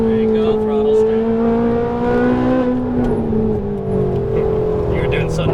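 A Ferrari 458 Italia at full throttle on a Las Vegas racetrack, its engine a loud sustained drone whose pitch climbs and then eases as it accelerates, heard from close by.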